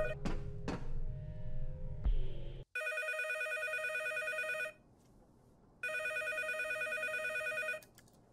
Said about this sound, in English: Oh, a phone.